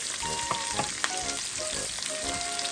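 Garlic and onion fry and sizzle in a pan for pork pineapple, a steady close hiss with occasional spatula knocks and faint tonal squeaks as the pieces are stirred.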